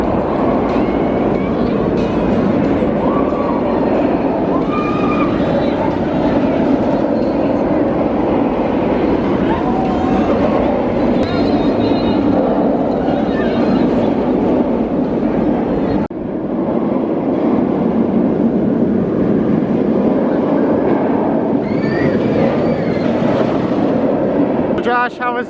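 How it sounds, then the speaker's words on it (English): Continuous loud rumble and rattle of a mine train roller coaster at Six Flags Over Texas rolling along tracks, with crowd noise and voices mixed in throughout. "Those are fun mine trains."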